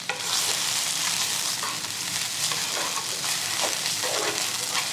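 Four minced garlic cloves sizzle in a hot pan for shrimp and sausage pasta, a steady bright frying hiss with stirring scrapes throughout, close and continuous without talk.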